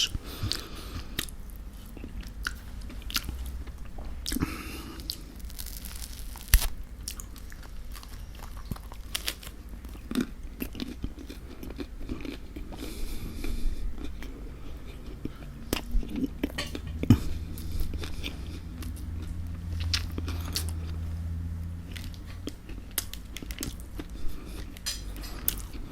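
Someone eats beef lasagne up close, with soft wet chewing and bites punctuated by cutlery clinks against a dish, quiet and intimate over a long stretch.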